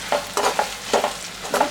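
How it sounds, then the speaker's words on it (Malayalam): A spoon scrapes and stirs fenugreek powder, asafoetida and salt in a hot frying pan, giving about six close, brisk strokes in an uneven rhythm over a faint sizzle, with no talking. "എല്ലാം നല്ലോണം മിക്സ് ചെയ്യാം."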